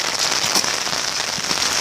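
Rain patters steadily onto an umbrella held overhead, a dense, close crackling hiss of drops striking the fabric, even and continuous.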